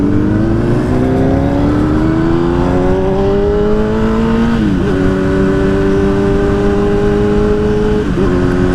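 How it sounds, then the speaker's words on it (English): Motorbikes pass on a nearby road in a loud, continuous engine drone. The pitch rises through the gears and then dips briefly twice as the riders shift, and no one speaks. "there's like a lot of bikes out right now"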